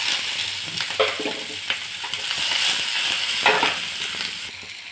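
Onion and dried red chillies fry in hot oil for a crispy okra dish, giving a loud, continuous sizzle close up with faint stirring clatter. No one speaks.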